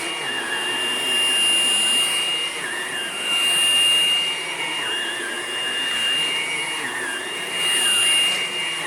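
A Hoover Blade Plus cordless vacuum cleaner runs steadily with a high whine, its pitch rising and falling slightly as it moves, loud and close.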